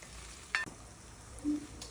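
Garlic sizzles in a pan, cooking as the base for a Mediterranean octopus dish. A steady soft frying hiss runs throughout, with a brief clink near the start and a faint low bump later. No one talks.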